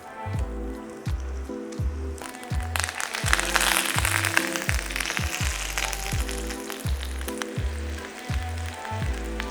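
Sliced onions hitting a hot surface and frying to caramelize for a rabbit burger, a sudden burst of sizzling that holds steady and close, with a rhythmic musical backing underneath.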